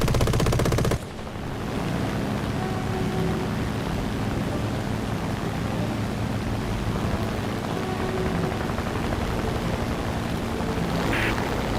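Sustained aircraft machine gun fire in War Thunder, with a British aircraft in a dogfight: a loud, rapid burst in the first second, then a steady roaring engine drone with continuous rattling gunfire beneath it.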